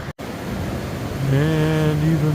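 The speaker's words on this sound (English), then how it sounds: "Same creek a little farther up." A mountain creek near Pinchot Pass on the Pacific Crest Trail flows with a steady broadband wash of water. A brief clear tonal sound rises over it near the end.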